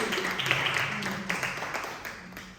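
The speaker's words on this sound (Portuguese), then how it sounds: "clap your hands to Him if you believe it." A church congregation claps for Jesus, a moderate wash of many hands under a voice speaking, fading toward the end.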